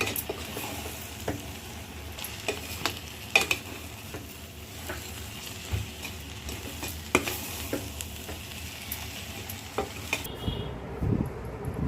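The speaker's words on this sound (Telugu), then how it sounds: "అన్నీ వాడ్చిన మసాలా అంతా అన్నంలో వేసి కలపాలి" Garam masala spice powder stirred into cooked rice in a pan for Karnataka-style vangi bath (brinjal rice): repeated scraping clicks and knocks of a spoon over a soft, steady sizzle, all close by.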